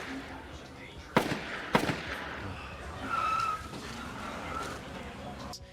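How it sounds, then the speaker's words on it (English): Two sharp bursts of gunshots crack out a window in a tense scene from The Wire, the first pair close together, followed by low rumbling background noise and a faint voice. "we hear 2 sets of gunshots out of the window as he jumps"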